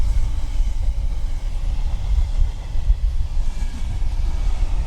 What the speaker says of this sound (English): there we have the Moss End to Teesside container train just pulling into the platform